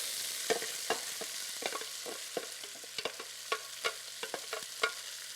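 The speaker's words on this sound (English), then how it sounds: "I'm going to add my corn. It's going to sizzle, so be careful." Corn crackles and sizzles steadily in a hot pan, with sharp pops and spits scattered throughout and no talking.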